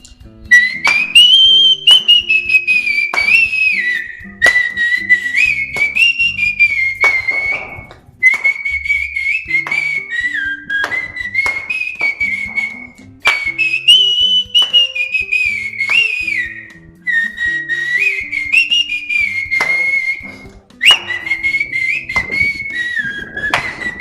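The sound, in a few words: whistling a Dnyaneshwar Mauli devotional bhajan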